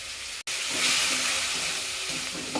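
Spice masala of coriander, turmeric, Kashmiri chili and meat masala with salt and sugar fries in a pan, giving a continuous hissing sizzle after a brief cut.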